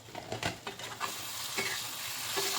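A pan of yam and potato vegetables is stirred several times, with a spoon scraping through the mix over a soft, steady sizzle at moderate loudness and no talking.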